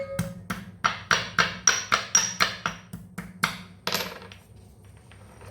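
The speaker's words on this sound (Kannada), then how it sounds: "ಶುಂಠಿ ಜಜ್ಜಿಕೊಂಡು ಹಾಕ್ಕೊಂಡಾಯಿತು." Ginger being crushed for a Mangalorean Kallur fish fry masala: a run of about a dozen sharp, evenly spaced pounding knocks, close and fairly loud, slowing and fading out near the end, with no voices.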